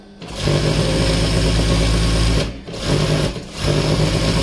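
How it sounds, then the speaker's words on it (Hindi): A sewing machine stitches the frill of a single-ruffle petticoat, running close and loud in steady long bursts with two brief stops. "ये अच्छी से लब की सिलाई हो रही है देखिएगा।"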